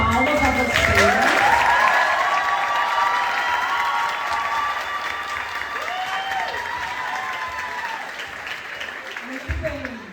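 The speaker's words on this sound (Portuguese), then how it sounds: "Nós queremos também dar uma salva de palmas a vocês." Audience applause for the Projeto Criança group at a church gathering, a dense roomful of clapping that stays loud and steady throughout, with voices and a few cheers mixed in.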